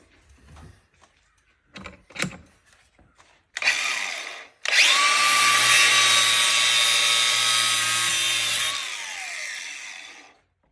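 Ridgid flex shaft cable cut with a power tool: a few knocks and clicks, a short burst, then a loud sustained high whining, grinding cut for several seconds that fades down as it ends.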